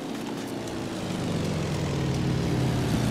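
A Russian P-39 Cobra propeller fighter drones overhead in the World War II game Iron Front 1944, a steady engine hum that grows slightly louder as it passes.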